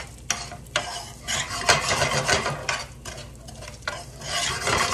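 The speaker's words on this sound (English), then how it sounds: "we're gonna just get all this toasted in the pan" Nuts toasting in a pan, stirred continuously, with scraping, rattling strokes over a steady low sizzle; loud and close, with no voices.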